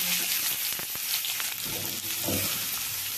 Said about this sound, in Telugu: ప్యాన్లో కొద్దిగా ఆయిల్ వేసుకొని చికెన్ ఫ్రై చేసుకుందాం